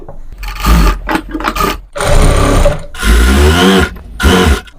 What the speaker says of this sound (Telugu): ఇలా స్టార్టింగ్లో ఇలా ఎడ్జెస్ అంతా కుట్టేసుకోవాలి.